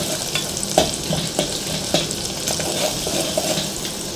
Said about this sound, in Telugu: ఉల్లిపాయ, పచ్చిమిరపకాయ వేసుకుని ఇలా వేయించుకోవాలి